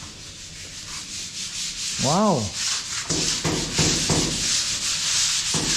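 Steady scratchy rasping of sandpaper rubbed back and forth over skim coat plaster, close and continuous, with a brief voiced exclamation partway through.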